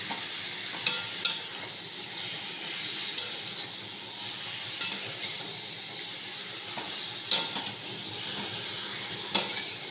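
Chicken fries on a high gas flame with a constant close sizzle and hiss, broken by sharp periodic clanks of a spatula stirring against the pan.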